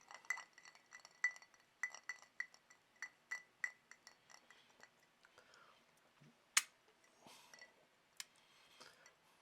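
A finger stirs Wild Turkey 101 bourbon in a glass, making light, evenly spaced clinks and ticks against the glass, close but faint, followed by a few sharper, louder clinks.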